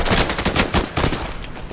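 Pistol gunfire in the tactical shooter game Insurgency, a rapid burst of loud, close shots cracking in quick succession over a dense, noisy battle backdrop, with no talk.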